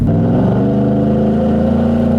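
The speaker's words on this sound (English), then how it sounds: "It sounds great with this exhaust, especially since it's a side exit exhaust." A supercharged Ford F-150 pickup with a side exit exhaust revs loudly, a deep engine rev rising and settling, a throaty rumbling exhaust heard close up with no voices.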